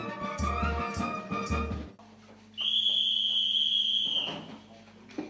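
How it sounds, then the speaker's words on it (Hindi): At an army training camp, a single long, shrill whistle blast signals bedtime, sounding clearly for under two seconds after a brief stretch of background music. "ठीक 10 बजे की सीटी ऐलान करती है सोने के वक्त का"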